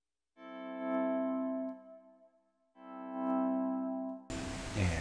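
Two ukulele chords ring out through an effects pedal that removes the pick attack, each swelling in gently and sustaining before fading, followed by a brief burst of unrelated noise at the end.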